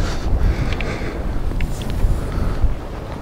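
Strong wind gusts over a cold Black Sea beach at Anapa, driving blowing sand in a steady, roaring rush with buffeting against the microphone, loud and continuous without speech.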